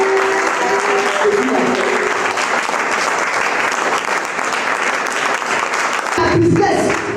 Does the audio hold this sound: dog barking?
no